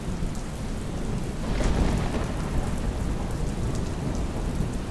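From inside a cozy cabin, heavy steady rain pours and a low rumble of thunder swells near the middle, filling the space loudly with no voices.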